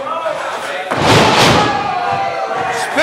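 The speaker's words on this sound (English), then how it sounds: "Spinning neck breaker cover." Heavy body slam onto a wrestling ring mat from a spinning neckbreaker during a live RWA championship match, a sudden broad thud at about one second that rings out over a noisy arena crowd and commentary.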